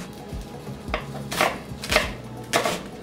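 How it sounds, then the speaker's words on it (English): A knife roughly chops onions on a board for a curry, with a few separate sharp knocks spaced about half a second apart, close and clear, and no voice. "So go in for a nice rough chop."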